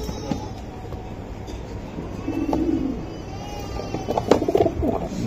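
Club racing pigeons coo in low, soft bursts, with a couple of muffled calls rising briefly over a steady background rumble.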